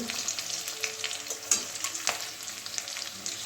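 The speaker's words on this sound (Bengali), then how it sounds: "এক পিঠটা ভাজা হয়ে গেছে এদিকে উল্টে দিচ্ছি" Steady oil sizzle with a few sharper clinks and scrapes as gourd-leaf and poppy-seed fritters are flipped in a pan, close and moderately loud, no talking.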